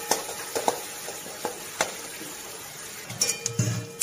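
Whisked yogurt and masala frying in a pan for an Indian egg curry, with a soft steady sizzle under scattered spoon scrapes and clinks against the pan, busier toward the end.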